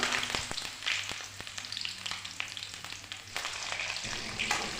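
Chillies and curry leaves frying in hot oil for mango pickle, a steady crackling sizzle with sharp pops and spatters throughout, close and fairly loud.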